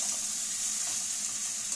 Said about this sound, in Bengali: আমি এখানে সামলা ভাজাটা বসিয়ে দিয়েছি শুকনো লঙ্কা কালো জিরে দিয়ে আর নুন হলুদ